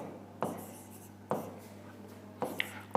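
A marker writing in red on a classroom board during a Class 12 physics lesson on electric charge and field, with three or four short scratchy strokes against a steady low hum and no talk.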